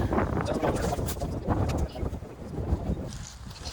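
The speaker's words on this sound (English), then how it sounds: "it's a little windy today" Gusty wind buffets the microphone outdoors beside a beehive, rumbling low and uneven in surges, with a voice speaking faintly under the blustery noise.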